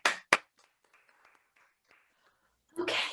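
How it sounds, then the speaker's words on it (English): During a virtual storytelling event, a couple of sharp, close hand claps open sparse applause for a storyteller, then near-silence with faint murmurs before a louder burst of noise at the end. "A round of applause again for Sarah."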